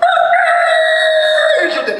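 A voice imitates a drunk rooster crowing, one loud, sustained, wavering cock-a-doodle call that slurs and breaks at the end.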